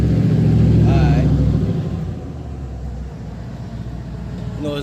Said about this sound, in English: As soon as this loud ass truck passed me by, like this right here